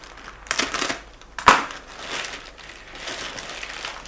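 A small package in a plastic bag is handled and opened, giving a few sharp crinkling, crumpling bursts between quieter rustles. It is close and moderately loud.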